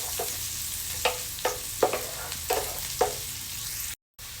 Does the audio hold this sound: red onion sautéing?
yes